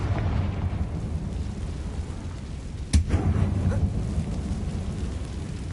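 A Confringo blasting spell bursts in Hogwarts Legacy, a single sharp explosive crack rising briefly out of a steady low rumbling game soundscape.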